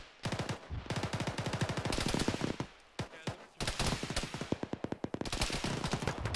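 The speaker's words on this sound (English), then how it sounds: "Shots are coming in, but I can't see them. Yeah, they're firing through the trees." Video game gunfire in Arma played with ShackTac: rapid bursts of automatic rifle and machine gun fire, sharp cracks in dense rhythmic strings with short pauses between volleys, loud and close.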